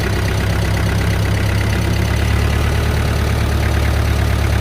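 A used Kubota M5000SU tractor engine runs at a steady idle, a continuous loud low rumble with an even mechanical chatter and no pauses, heard alone.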